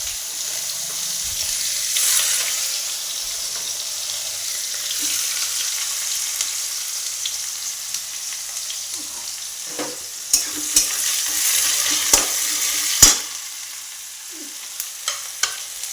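Onions fry in hot oil for egg curry, a steady broadband sizzle running throughout, with occasional sharp clicks and scrapes of stirring toward the end; no voices.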